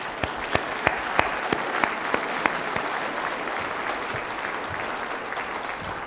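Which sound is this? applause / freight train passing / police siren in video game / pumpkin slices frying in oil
applause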